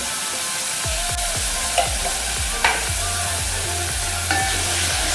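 Carrots cook in a pan under a steady sizzle and frying hiss, with repeated soft knocks and scrapes from stirring spread through the whole stretch. No one speaks.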